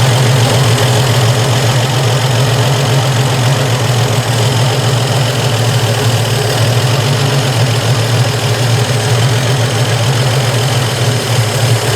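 Engine idling steadily after a slight throttle blip, a loud, even low rumble with a faint knocking texture, close and continuous without voices.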